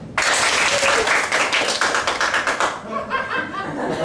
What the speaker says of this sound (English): Can you do a clap for me if you've ever seen a movie with Batman in it?